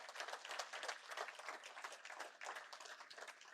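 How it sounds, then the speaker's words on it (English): Steady applause from an audience, many hands clapping together in a dense, continuous patter that holds for several seconds. "So round of applause for them."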